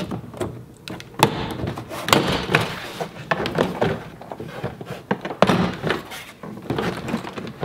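Trim clips popping loose as a door panel is pried off a 2007–2014 Chevrolet Silverado, a run of sharp plastic thunks and snaps at irregular intervals, close up over light handling noise.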